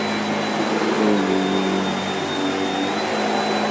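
A Shark Powered Lift Away NV681UKT vacuum cleaner runs continuously, a loud, steady motor whine with a droning hum and a high tonal edge, alone throughout.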